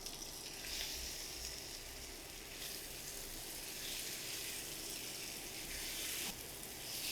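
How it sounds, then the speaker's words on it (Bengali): Chicken frying in a pan with crushed ginger and garlic, a steady broadband sizzle that holds at a moderate level throughout, with no voices. "আদা রসুনের সাথে চিকেনটাকে ভেজে নিতে হবে প্রায় 10 মিনিটের মতন।"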